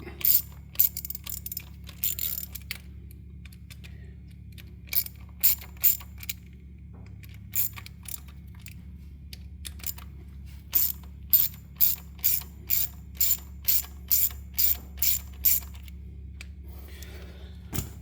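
A ratchet loosens bolts on the clutch release assembly of a 1998 Kawasaki Vulcan Classic, sounding as close, sharp clicking bursts in quick runs separated by pauses, with a steady low hum underneath and no talking.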